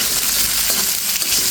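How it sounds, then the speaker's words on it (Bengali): Chunks of potato and okra fry in a pan, giving a close, steady, bright sizzle with small crackles throughout and no talking. "আলুটা আর ঢেঁড়সটা প্রায় ভাজা হয়ে গেছে"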